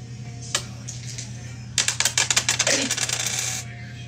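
Dice clatter in a street dice game, with one early click and then a quick burst of sharp rattling hits, close by against a low background hum.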